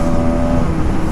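Close engine drone of a Bajaj Pulsar NS200 motorcycle accelerating in fourth gear toward 100 km/h, loud and steady with a sustained whining tone and road rumble, short and alone.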